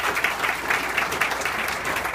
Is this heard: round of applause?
yes